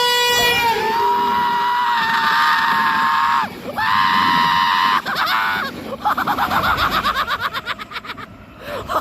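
A voice imitates a famous screech, giving long, loud, high-pitched cries that break off and restart, then end in a rapid pulsing wail, recorded trackside on the Belfast-Dublin railway line.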